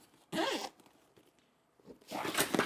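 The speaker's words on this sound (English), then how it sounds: "Zipper it up." Two quick zips close a small soft case for a Tolifo PL-100RGB palm video light, close and fairly quiet, the first a sharp pull and the second a longer rasping run.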